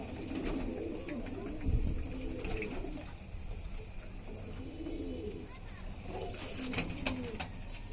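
Domestic pigeons cooing nearby, several soft throaty coos repeating at a loose rhythm over a constant background hiss, with faint bird chirps mixed in.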